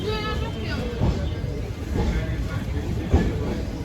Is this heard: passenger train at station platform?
yes